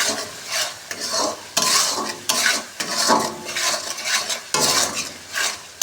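Spice masala with turmeric stir-fried in oil, with a spatula scraping the pan in loud, repeated strokes at an uneven rhythm over a steady sizzle and no voices.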